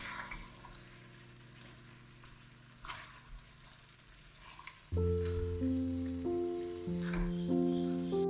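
Quiet sizzling and bubbling crackles close by as pork fries in oil for several seconds, then gentle piano music rises over the frying.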